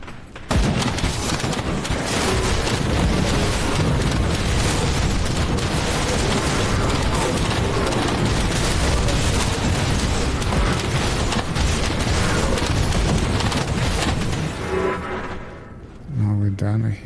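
A green explosion erupts in the action RPG Grim Dawn, a loud, dense roar of blasts and crackling effects that runs on almost without pause amid the game's battle noise, with someone talking over it.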